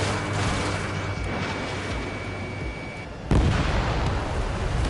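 Missiles launching in the jet combat game Ace Combat 7: a dense, steady roar of rushing engine noise and blasts that jumps to a louder burst near the end, heard alone without voices.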